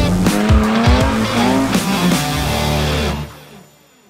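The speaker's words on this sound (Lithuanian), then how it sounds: "Planuoju su BMW skersas padėti." A BMW drifting sideways at a training session in Klaipėda, tires squealing loudly over a revving engine, a continuous close screech that fades out near the end.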